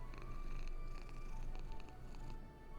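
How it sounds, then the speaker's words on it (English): Mrs. Carter the cat purrs in a soft, continuous rumbling rhythm at close range, steady throughout with faint background tones and no talking. "That cat's name is Mrs. Carter"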